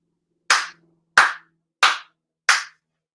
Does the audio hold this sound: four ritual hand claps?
yes